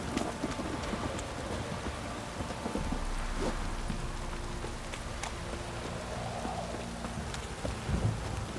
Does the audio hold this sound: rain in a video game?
yes